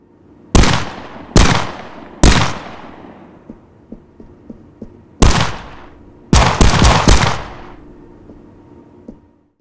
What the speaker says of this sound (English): I created a switch container for indoor and outdoor gunshot sounds.